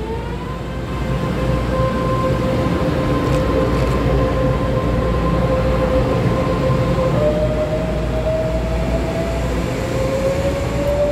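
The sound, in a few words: EMU518+EMU507 local express train departing Su'ao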